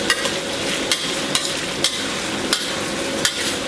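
Soaked chilies and Sichuan peppercorns stir-fried in a wok with chili sauce and red oil: a continuous sizzle broken by regular sharp scrapes and clanks of a spatula against the wok, close and loud.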